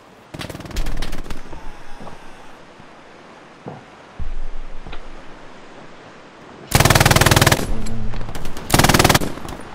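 Automatic machine gun fire in a World War II Omaha Beach shooter game: loud, dense bursts near the start and long sustained volleys toward the end, with scattered single shots and ambient roar between.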